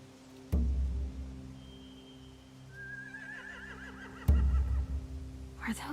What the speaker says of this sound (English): They have horses.